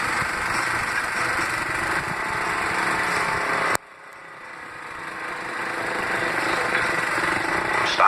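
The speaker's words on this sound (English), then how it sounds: "Stopping, putting your gear in neutral, and keeping your engine idling." A motorcycle engine idles in neutral, giving a steady, buzzy drone close by that cuts out abruptly partway through and then gradually builds back up, with no talking.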